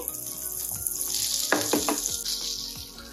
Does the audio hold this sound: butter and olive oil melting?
yes